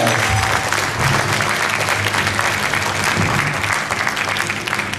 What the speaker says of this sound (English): a round of applause for my father for all the work that he does